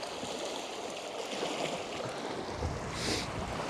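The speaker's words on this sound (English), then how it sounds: "Wind has picked up quite a bit over the past 5 minutes." Steady broadband wind and surf noise buffets a microphone on a coastline where a fishing trip is under way, a continuous rushing roar with a brief louder gust near the end and no voices.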